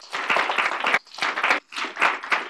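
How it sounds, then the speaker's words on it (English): A small audience at a community meeting about the Silver Line applauds a neighborhood advisory committee in three short bursts of clapping separated by brief pauses, fairly close and clear. "They deserve a round of applause."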